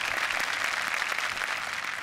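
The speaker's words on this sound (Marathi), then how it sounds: "नकुल घाणेकरसाठी जोरदार टाळ्या" Dense, steady applause from a studio audience for guests on a Marathi TV comedy show, loud and continuous for the whole stretch with no talking over it.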